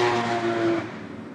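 A Nissan GT-R sweeps past at a Tsukuba time attack event, a loud engine note with a steady tone that falls away as the car moves off within about a second.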